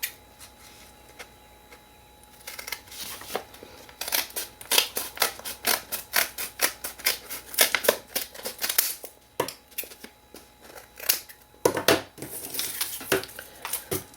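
Scissors snip through the folded edge of a paper bag, a rapid run of crisp, close clicks and crunches in uneven bursts, with quieter handling of paper between runs.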